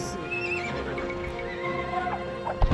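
Horses in the Age of Empires 2 video game neigh and whinny during a 1v1 Arena match, with clip-clopping hooves and battle noise layered under the calls.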